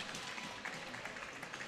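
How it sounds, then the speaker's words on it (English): Scattered applause from the audience at an ice hockey game, a brief stretch of steady clapping heard from a distance in an arena. "claps from the audience"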